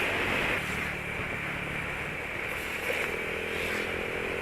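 A Honda Vario scooter cruising on a coastal highway in Indonesia at a steady moderate speed, its engine drone mixed with continuous wind and road rush, fairly loud and unbroken.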